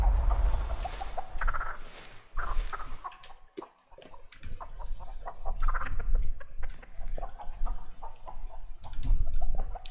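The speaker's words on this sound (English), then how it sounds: "used real chickens for the audio for Nugget" Nugget, a chicken in the Texas Chainsaw Massacre game voiced with real chicken recordings, clucks in a busy run of short irregular calls and scratchy bursts, moderately loud and close.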